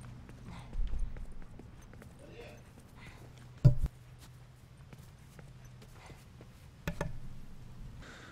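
Horse hooves clip-clop in The Last of Us: Left Behind, with a few separate, spaced hoof thuds and clacks at moderate loudness over a low steady game hum.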